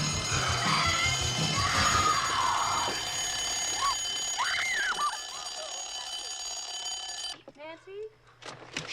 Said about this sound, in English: she's able to fend him off until her alarm clock wakes her up